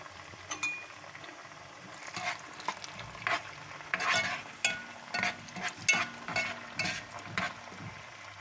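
Tomato sauce for a bean stew sautéing in a pan, a low steady sizzle broken by scraping stirs and clinks of a utensil against the pan, quiet and close with no talking.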